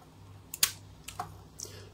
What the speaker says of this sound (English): When I wind on it, it should click. Hear the click?